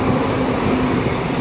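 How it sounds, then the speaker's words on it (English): A train passes near the Indooroopilly bridges in Brisbane, a steady broadband rumble heard at moderate distance with no break. "I can hear a train."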